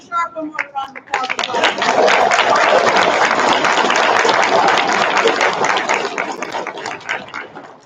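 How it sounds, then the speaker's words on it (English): A school concert audience breaks into full applause for a choir director after a few scattered opening claps, the dense clapping holding steady and loud before tapering slightly at the end. "Mr. Sharp, one more round of applause."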